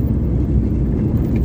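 A car driving on the Mumbai–Goa NH66 highway through the Lanja market area, a loud steady low road and engine rumble heard from inside the vehicle.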